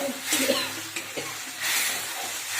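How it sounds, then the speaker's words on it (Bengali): Onion, ginger paste, garlic, cumin powder and Kashmiri chili spices sizzle and hiss in a hot pan, with steady frying broken by a few stirring scrapes and clinks, close and moderately loud, no talking. "দিয়ে মশলাটা কষে নেব"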